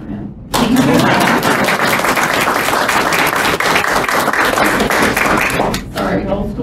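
An audience at a U.S. Commission on Civil Rights public forum breaks into loud, sustained clapping that starts abruptly after a brief pause and fades near the end, with a voice coming back in.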